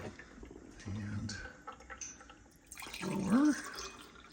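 Microwaved RO water being poured, a gurgling liquid stream with rising pitch as the container fills, loudest near the end after a brief earlier splash, with faint background noise.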